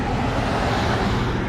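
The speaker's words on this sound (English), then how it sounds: "if you can hear the sounds of the cars passing by" Cars pass on a bridge in a dense, steady roar of traffic, loud and close, with no separate vehicle passes standing out.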